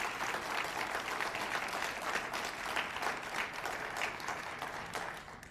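An audience at an award presentation during a spring benefit event applauds steadily, a dense sustained clapping of many hands that fills the room evenly and holds for several seconds without a break.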